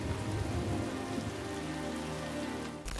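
Heavy rain in a film's romantic kiss scene pours steadily onto a surface, a dense continuous patter that cuts off abruptly just before the end.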